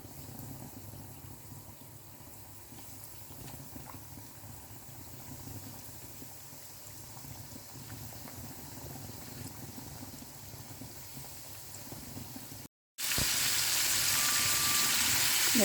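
Chicken frying in hot oil: a soft, steady sizzle, then after a brief cut, a much louder, dense crackling hiss.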